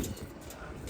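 A pigeon gives a brief, soft coo close by, a single low murmur lasting about a second against faint background noise.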